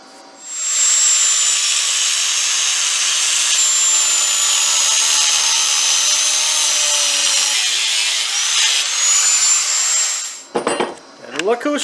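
Steady, loud high-pitched grinding hiss of metal being cut on a Gravely Protero bagger, running continuously for about ten seconds before stopping, followed by a few clattering knocks.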